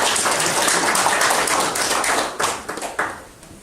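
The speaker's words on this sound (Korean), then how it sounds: "뭐 박수 한번 쳐줍시다." An audience at a disability sports policy workshop claps, dense and steady at first, then thinning into a few scattered, sharper claps that fade toward the end.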